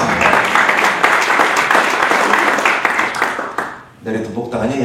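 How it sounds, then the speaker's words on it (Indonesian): Applause from a church congregation during a sermon, a dense wash of clapping that fills most of the moment before fading out, with someone speaking briefly at the end. "Dari tepuk tangannya yakin gak sih ya?"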